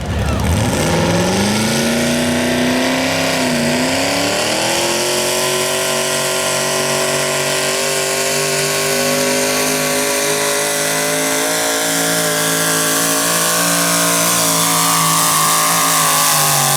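A modified 1992 Chevy S10 4x4 truck with a built small-block 350 Chevrolet V8 at a power pull. It roars loud and close, its pitch climbing steadily as it revs and pulls hard in one sustained run.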